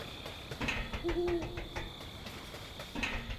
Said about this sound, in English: Wait, I do hear an owl though, don't I?